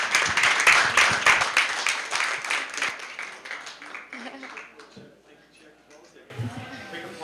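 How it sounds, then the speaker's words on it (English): An audience applauds a panel discussion on email marketing at a conference: a burst of clapping that fades over several seconds, followed by a speaker beginning to talk. "Quick applause for you once more."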